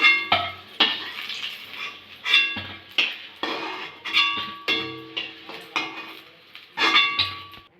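Eggplant slices being fried in a pan of mustard oil, with repeated clanks of a utensil against the pan over a sizzling bed, several sharp clatters spaced through the clip, close and fairly loud.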